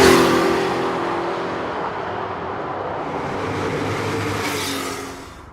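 A 1976 Porsche 911 Turbo with a 3-litre engine accelerates hard, a loud roaring engine note that swells and then fades as the car pulls away.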